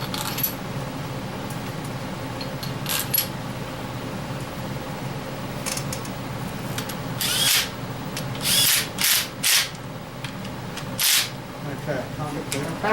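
An impact wrench fires several short, loud, rattling bursts during work on a failed engine, with steady workshop background noise between the bursts.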